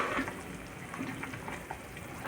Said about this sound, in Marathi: रश्श्याला मस्त अशी उकळी आली आहे बघा